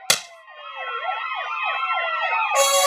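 A fire engine siren wails in a rising and falling cycle, loud and close, alone with no voices, cut off abruptly at the end by a bright burst.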